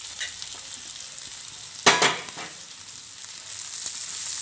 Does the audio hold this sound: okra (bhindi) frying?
yes